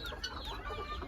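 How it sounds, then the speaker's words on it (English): Turkeys and other fowl crowd a farm pen in Udon, giving overlapping clucks and gobbling calls close by, a busy, continuous chatter of birds. "Turkeys everywhere."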